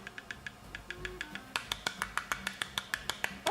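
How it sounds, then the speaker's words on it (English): Small hands clap close to a microphone, a quick run of sharp, evenly spaced claps that starts soft and grows louder and brighter, alone without talk. "A round of applause."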